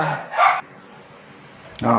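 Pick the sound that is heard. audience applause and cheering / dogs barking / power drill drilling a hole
dogs barking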